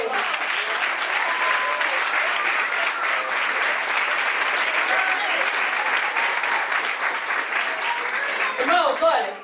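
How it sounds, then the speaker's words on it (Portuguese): A church congregation claps loudly and continuously during a sermon by a missionary, a dense sustained wash of applause with voices calling out beneath it and a louder swell near the end. "Dê palmas aí para Deus."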